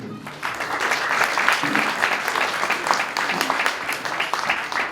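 Church congregation at a Christmas service in Faridpur, Jalandhar, applauding together in dense, continuous clapping, loud and sustained across the whole stretch with no talk breaking through.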